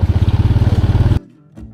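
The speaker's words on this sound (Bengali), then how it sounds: "এই নীরবতার মধ্যেই বাইক ছুটে চলে রোহিতপুরের দিকে।" A motorcycle engine chugs close and loud with a fast, even pulsing beat for about a second on a village road, then cuts abruptly to near quiet with a faint low rumble.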